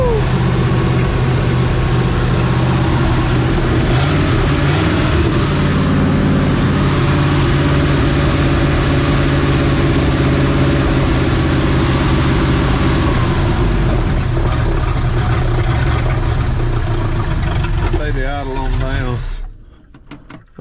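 A 1968 Ford F100 truck engine cranks and runs steadily at idle, a loud low rumble that continues for nearly twenty seconds before sputtering and cutting out abruptly near the end, with people talking over it.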